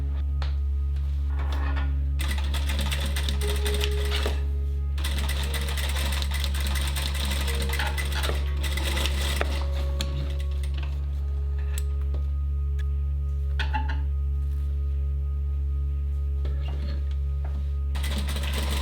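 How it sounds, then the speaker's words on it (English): Half-square triangle fabric pieces for a Christmas stocking run through a sewing machine in repeated close bursts of rapid stitching with short pauses, over a constant low electrical hum. "With right sides together, stitch 2 small half-square triangle pieces together along the straight"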